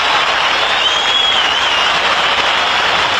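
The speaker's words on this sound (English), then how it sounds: "making his entrance retirement ceremonies for Denver quarterback Craig Morton, and the crowd responding" A stadium crowd at a 1982 Denver Broncos home game against the Kansas City Chiefs applauds during a retirement ceremony for a Denver quarterback, a dense, steady wash of clapping and cheering heard from a distance.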